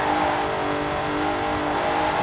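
Engine revving in Forza Horizon 4 from a car with a 3.6-litre engine fitted with twin Garrett T25 turbochargers, giving a steady, loud, sustained drone with a strong tonal hum and no talking.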